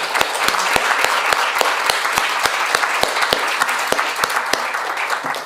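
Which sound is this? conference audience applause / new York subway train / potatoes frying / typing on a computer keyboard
conference audience applause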